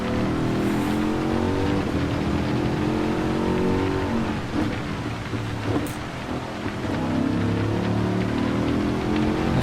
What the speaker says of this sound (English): this AMG sounds amazing. It's got a ton of grunt